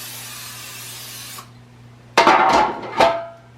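Two short hissing bursts of non-stick cooking spray onto bread pans, close by, following a steady faint hum and a pause.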